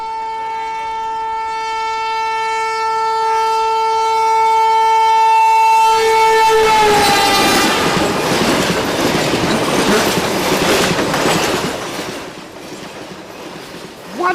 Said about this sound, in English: Look at this video of a train passing by a camera and microphone.